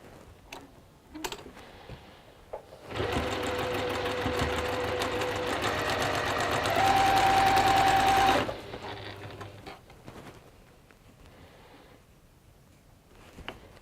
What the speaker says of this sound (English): we can chain piece that.